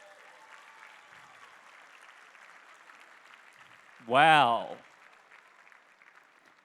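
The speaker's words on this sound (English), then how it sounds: "Let's give them a round of applause." Soft, steady applause comes from an audience at a Hall of Achievement awards event. Near the middle, one nearby voice calls out briefly and loudly over the clapping.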